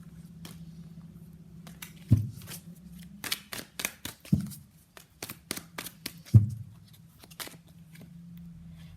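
Tarot cards are being shuffled close up, with a series of crisp riffles and snaps, some in quick clusters, over a quiet low hum.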